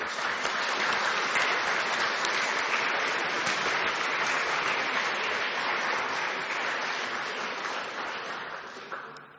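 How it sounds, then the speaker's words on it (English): An audience at a conference closing keynote applauds the new fellows, sustained dense clapping that stays strong for most of its length before tapering off at the end. "Can we please give them a round of applause?"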